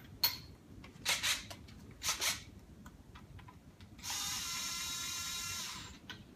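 A hand ratchet snugs down bolts while a 409 Cleveland engine is reassembled, giving several short clicking bursts followed by a longer, steady ratcheting run, fairly close and moderately loud.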